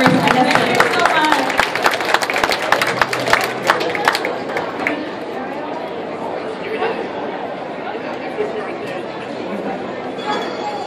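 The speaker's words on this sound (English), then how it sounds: "Let's give a big round of applause for our first contestant." Audience applause and chatter for the first contestant at a Fukuwarai face-assembling game during a Japanese New Year event, a dense burst of clapping in the opening seconds that fades into crowd murmur and talking.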